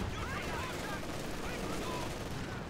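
MG42 machine gun fire in a World War II video game: a dense, continuous rattle of rapid shots, fairly faint and unbroken, with no talk over it.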